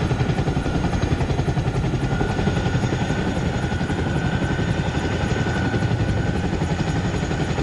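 Training helicopter flying steadily overhead, a loud continuous rotor and turbine roar with rapid blade chop throughout, no pauses, alone without talk.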